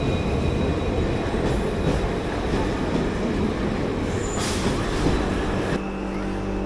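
Vasco–Kulem passenger train hauled by a WDG4 diesel locomotive rolls past close by, a loud continuous rumble of wheels and wagons with occasional squeal and clatter.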